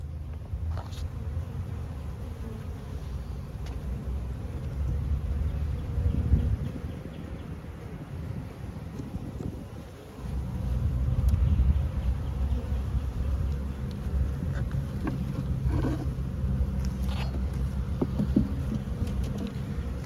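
Honeybees drone in a continuous, dense buzz around a hive that has already thrown a swarm, close and steady for the whole stretch, with brief louder passes from individual bees.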